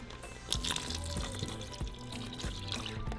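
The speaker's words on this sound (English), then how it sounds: "So now we're going to add our milk." Milk pours into a pot of cooking rice for arroz con leche, a steady liquid splashing and trickling with soft drips and light clinks over about three seconds, no voices.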